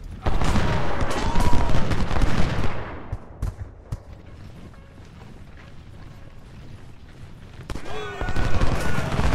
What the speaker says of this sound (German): Scheiß Kanonen.